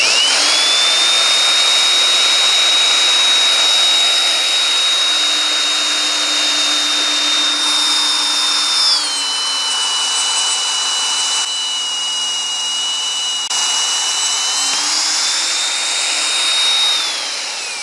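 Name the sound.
drilling holes in thick steel plate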